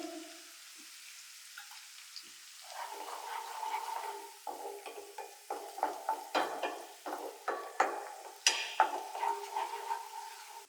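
Capsicum and green chillies frying in a pan while being stirred, a steady sizzle under repeated scraping and clattering spoon strokes that grow louder and more rhythmic, no talking.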